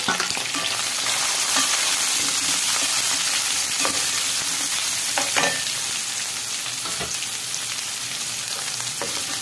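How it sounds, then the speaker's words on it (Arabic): Bell peppers and hot peppers frying in melted lamb fat, a loud continuous close sizzle with occasional stirring clatter, no talking. "هنزل بقى، انا هنا معايا فلفل ومعايا رومي وفلفل حامي."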